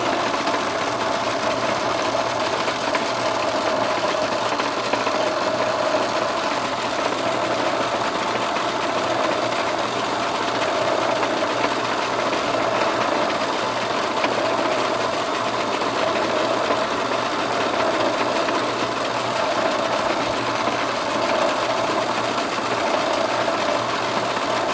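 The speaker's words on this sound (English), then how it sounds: "take it over here on the lathe and mill a little bit of this surface down" Lathe milling down the surface of a metal backing plate in a farm workshop, a steady, close mechanical hum with a faint whine that runs unbroken throughout, with no talk.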